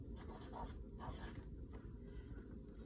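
A marker or pen scratches out labels on a paper drawing in short, quiet strokes at close range, a few brief bursts of rubbing against a soft background hum.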